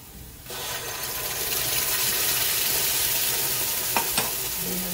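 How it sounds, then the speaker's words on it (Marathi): Ground masala paste fries in a pan with a loud, steady sizzle close up, broken by a couple of faint stirring knocks near the end and no talk. "एवढे सारासाठी आणि हे फ्राय करणार आहे"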